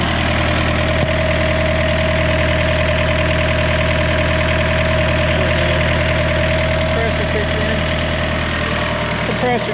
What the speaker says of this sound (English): Compressor just kicked in.